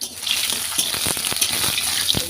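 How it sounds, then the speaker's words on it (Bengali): Lentil dumplings (bori) fry in hot oil with a steady close sizzle and hiss, broken by a few sharper pops and crackles. "এই আগে বড়িটা ভেজে নিচ্ছি"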